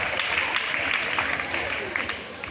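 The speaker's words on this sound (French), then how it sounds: "Applaudissons tous pour le membre de l'ONG" At an alumni association's official launch event, steady applause from an audience continues throughout, dense and even, with a faint murmur of voices mixed in.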